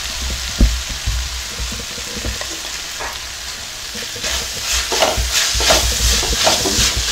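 Vegetable noodles being stirred in a hot pan over low-medium flame for hotel-style veg noodles: a steady close sizzle with scattered utensil scrapes and clicks, busier toward the end, with no talking.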